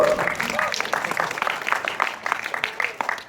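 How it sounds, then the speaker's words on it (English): Scattered clapping and applause from a small audience, steady but not loud, with a voice cheering over it. "Round of applause."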